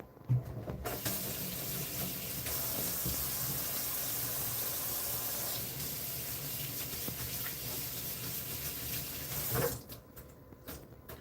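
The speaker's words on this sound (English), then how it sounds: "Just gotta wash the hands real quick." Hands being washed under a running kitchen or bathroom tap, a steady rushing splash of water flowing for about nine seconds before shutting off, close by, with brief handling noises at start and end.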